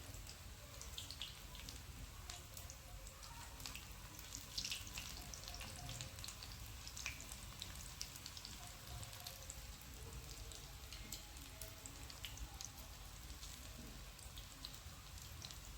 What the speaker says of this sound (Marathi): मी तेलात सोडून घेतले सगळे भजे मस्तपैकी